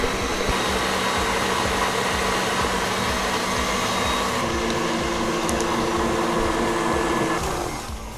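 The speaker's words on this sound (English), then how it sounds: "So we're just gonna turn on our mixer." A KitchenAid stand mixer with the whisk attachment runs in a steady, loud whir whose pitch shifts partway through before it begins to wind down, with no voices.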